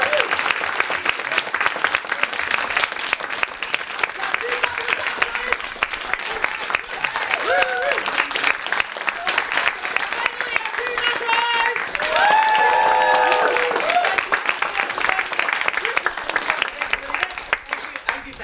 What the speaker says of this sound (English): Can we have a huge round of applause for Polislaw and all the people?